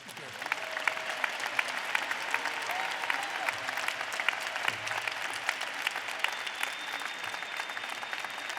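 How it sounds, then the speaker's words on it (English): Sustained applause for graduates at a university winter commencement, a large audience clapping steadily and fairly loudly for the whole stretch, with scattered crisp claps standing out from the dense wash. "Another moment of applause for our graduates."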